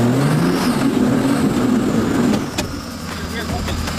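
A 4x4 engine revs hard while climbing a rocky off-road hill, a loud, steady, straining drone that drops off near the end, with a sharp knock as a tyre hits rock.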